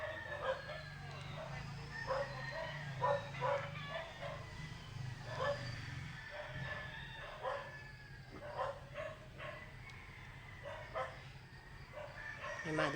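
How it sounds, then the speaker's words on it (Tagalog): Several dogs bark and yip repeatedly at a moderate distance, overlapping in uneven bursts over a low steady hum. "Ingay ng mga aso."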